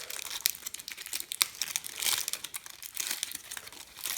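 Cooled aluminium foil, freshly pressed with a hot iron, being unwrapped by hand from fabric and cardboard in a sewing project, giving a continuous close crinkling and rustling with small crackles throughout.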